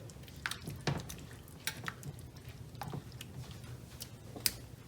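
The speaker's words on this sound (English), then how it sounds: "we're just gonna let this continually cook until the shrimp are done" Tuscan shrimp simmering in sauce in a pan, giving a soft, steady bubbling sizzle with occasional light clinks of a utensil against the pan, close and fairly quiet with no talking.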